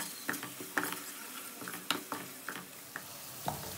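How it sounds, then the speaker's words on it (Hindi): Garlic powder, ginger powder and ground coriander roasting in a pan, a faint sizzle under a run of sharp, evenly spaced scraping clicks from the spoon. "आधा चम्मच लहसुन पाउडर, आधा चम्मच अदरक पाउडर, आधा चम्मच सूखा धनिया पिसा हुआ, इसे एक मिनट भून लेते हैं।"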